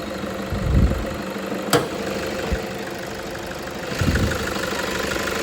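Idling 2011 Toyota Fortuner 4x4 with a 3.0L engine, a steady low rumble with a few brief louder bumps, heard up close with no talking.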